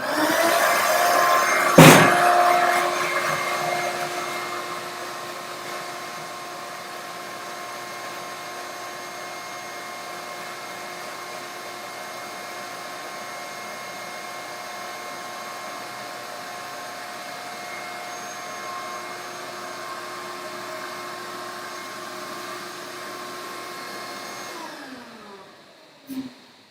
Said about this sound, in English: We have a vacuum attachment here, which we're going to turn on.